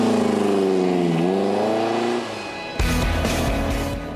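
VW rally Beetle engine revving loudly up close, pitch wavering and climbing, then a brief lull before a burst of harsh, gravelly acceleration.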